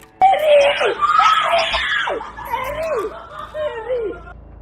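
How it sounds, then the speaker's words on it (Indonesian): Residents of a house in Kedah, Malaysia, scream in panic at a king cobra indoors: several shrill, wavering shrieks and cries close by, rising and falling one after another. "Kejadian menegangkan itu membuat penghuni rumah panik dan berteriak histeris saat menyadari ular berbisa tersebut berada di dalam rumahnya"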